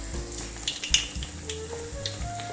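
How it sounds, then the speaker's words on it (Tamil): Bread slices fry in hot oil for bread halwa. A soft, steady sizzle runs throughout, with a few faint clinks and stirring sounds close by and no talking. "இப்போ இந்த பிரெட்டு இந்த எண்ணெயில் நல்லா பொரிச்சு எடுத்துக்கலாங்க."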